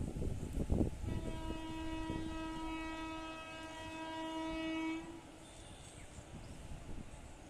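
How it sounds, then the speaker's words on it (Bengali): Thiruvananthapuram–Shalimar Superfast Express, a weekly superfast passenger train to Kolkata, sounds a long steady multi-tone horn for several seconds as it passes, over rumbling wheel and rail noise, with no voices. "ये হচ্ছে Thiruvananthapuram Shalimar super fast weekly super fast express"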